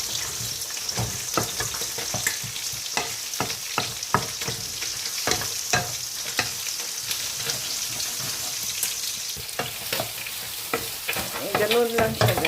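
Bitter gourd (ampalaya) and egg sauté in a hot pan, a steady close sizzle broken by frequent scraping and stirring strokes, with a brief bubbling burst near the end.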